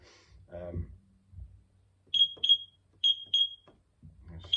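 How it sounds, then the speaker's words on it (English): A fire alarm panel running on batteries with a fault, sounding sharp, high-pitched electronic beeps in quick pairs, repeating several times, with someone talking briefly before and after. "Shut that beeping up until the fault clears."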